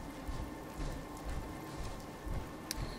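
Rain in the video game Fallout 4 falls as a steady, fairly faint hiss with soft low rumbles, continuous and alone without any talk.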